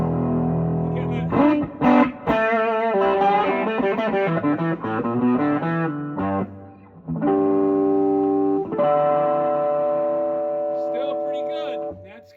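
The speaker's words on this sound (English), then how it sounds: "So this is just a distortion right now. Both amps." Heavily distorted electric guitar played through two amps plays loud, sustained notes and chords, with a brief break before a long ringing chord fades out.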